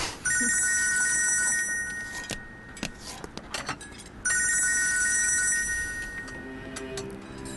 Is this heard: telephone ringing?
yes